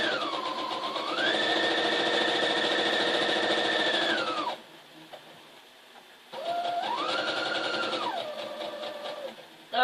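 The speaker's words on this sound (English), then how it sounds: "let me sew me another one on there" Sewing machine stitching fabric for a flag: a close, loud, steady whirring run, a pause of near quiet, then a second stitching burst, with no voices.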